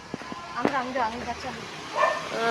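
A dog on a forest path gives a few short yips and barks under someone talking close by, the barks brief and mid-distance.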